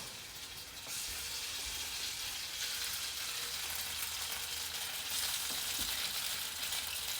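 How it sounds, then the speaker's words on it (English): Cubes of tofu fry in a very hot, smoking pan, giving a continuous loud sizzle and hiss that swells after the first second and holds steady, with a few faint knocks beneath. "I'm going to place them in my pan, which is really hot and smoky right now"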